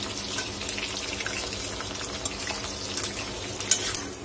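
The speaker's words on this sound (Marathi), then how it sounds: "तर बटाटे आपले छान खालची बाजू फ्राय होत आली आहे. तर आपण त्याला अगदी आलट पालट करून घेऊया." Potatoes fry in a pan and are turned over, giving a steady soft sizzle with occasional scraping and clatter of the flipping, close and moderately loud, with no talking.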